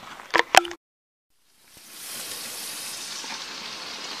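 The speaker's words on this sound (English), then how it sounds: "frying up some bacon and eggs and perking some coffee" A couple of sharp clicks, a brief silence, then a steady close-up sizzle of bacon and eggs frying in a pan.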